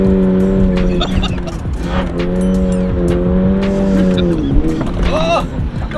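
A car drifting on 255 tires all around, its engine holding a loud steady drone as the tires squeal through a long slide, close and continuous for several seconds.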